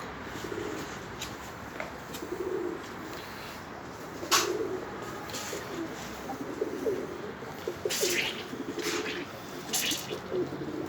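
Pet pigeons coo softly and repeatedly at a home loft, the low murmuring calls steady through a faint background hiss, with a few brief sharper bursts that may be wing flaps.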